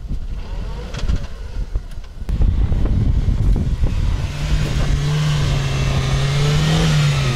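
A Renault Duster's engine revs hard off-road, first rough and uneven, then surging louder into a sustained, steady high-pitched drone as the car accelerates.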